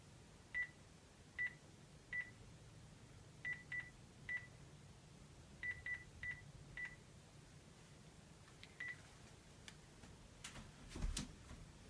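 Telephone keypad tones beep one at a time in an uneven sequence as a number is dialed, faint against a low hiss, ending in a brief clatter.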